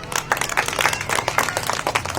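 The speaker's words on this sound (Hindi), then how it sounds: "मैं तालियां आप लोगों के लिए बजाना चाहता हूं" Hands clapping in steady applause for schoolchildren at a school's annual function, a dense patter of many claps sustained throughout, moderately loud and close, with no talking over it.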